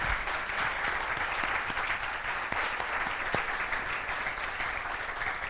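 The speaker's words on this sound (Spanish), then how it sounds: "Un aplausito para despedirlo." A seated audience at a design conference gives the departing speaker a sustained round of applause, dense and even from start to finish with no talk over it.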